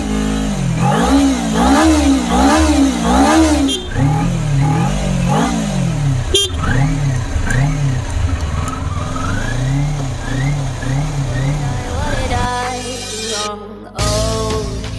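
Kawasaki Ninja 250 motorcycle engine revved repeatedly, rhythmic rising and falling throttle blips close by, then a series of sharper short revs before settling toward idle.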